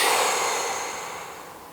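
Slow breath exhaled during a yoga breathing exercise, a soft airy whoosh that fades steadily over about two seconds, close and alone without talk.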